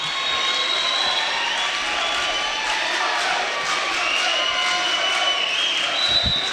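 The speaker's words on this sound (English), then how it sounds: "The Naperville North students cheering in your face." Student crowd cheering and shouting at a boys' high school volleyball state semifinal in a gym, a loud, continuous roar of many voices with shrill yells rising above it throughout.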